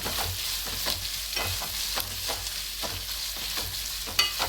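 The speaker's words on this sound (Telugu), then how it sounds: "ఉల్లిపాయ ముక్కలు పచ్చిమిరకాయలు కరివేపాకు మొత్తం కలిసి కదా ఈ విధంగా చక్కగా తిప్పుకుందామండి" Onions, green chillies and curry leaves stirred in a pan for potato kurma, a steady sizzle broken by regular scraping strokes of the spoon, close and fairly loud throughout.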